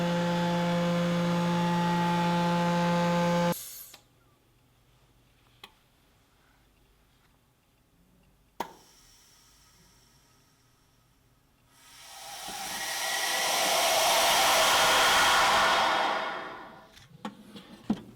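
A vacuum packaging machine runs its sealing cycle: a steady droning pump hum stops abruptly, then after a quiet stretch with a sharp click, a loud rushing hiss of air swells and fades, ending in small mechanical clicks.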